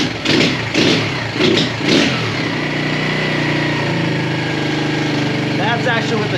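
An Xpro Chinese pit bike engine after carburetor idle adjustment, revved in a few short blips then settling into a steady loud idle, with a voice briefly heard near the end.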